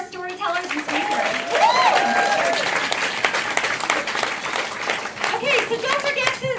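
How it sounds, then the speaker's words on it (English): Audience applause at a Roe v. Wade anniversary celebration for storytellers and speakers, loud sustained clapping mixed with cheers and voices over the crowd. "One more round of applause for our storytellers and speakers."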